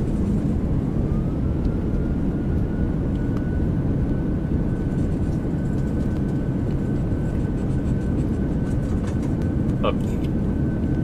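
Full reverse thrust from a Boeing 737 landing in Microsoft Flight Simulator 2020, a loud, steady broadband engine roar with a faint whine that holds level throughout, with a few brief clicks near the end.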